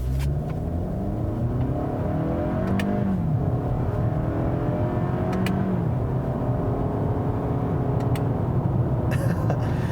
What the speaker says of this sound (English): when you start, downshifting, it actually will rev match